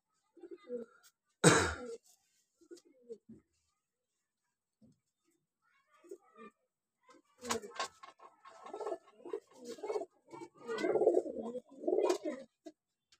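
Pigeons in a loft coo in soft, irregular bursts separated by quiet gaps, with a sharp noise near the start and a denser stretch of cooing toward the end.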